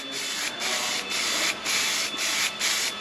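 Hammerite Smooth paint is sprayed onto a classic Superstox stock rod's bodywork in quick hissing bursts, about six short passes in rapid rhythm, close and fairly loud.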